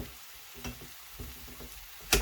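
Spanish tortilla frying in a pan as it is stirred, with soft sizzling, a few scraping strokes and a sharp clatter near the end, close and fairly quiet.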